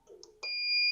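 An alarm board on a FocusInc Cobra-69S single-pass corrugated cardboard printer gives a sharp, steady electronic beep after a brief soft clatter, close and loud with no speech.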